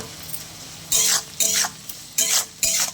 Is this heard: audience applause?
no